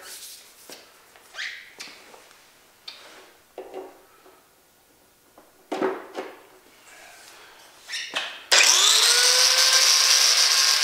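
A 4.5-inch angle grinder, run from a homemade 225 Ah battery power pack, whines up loudly and steadily for the last couple of seconds, after scattered clicks and handling knocks.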